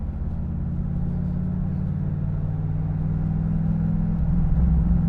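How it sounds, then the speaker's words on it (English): Running engine of a Camaro with a misfire, a steady low rumbling drone that roughens and swells slightly louder near the end, heard close from inside the car with no talking. "Now we can see it and feel it misfire."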